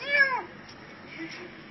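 A cat gives one clear meow with a falling tone at the start, followed by a fainter, drawn-out second call over low background noise.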